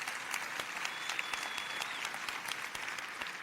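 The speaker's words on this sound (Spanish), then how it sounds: "Dale un aplauso a Dios." A church congregation claps steadily during a sermon, an even, sustained wash of applause that sounds somewhat distant and holds at a constant level for a few seconds.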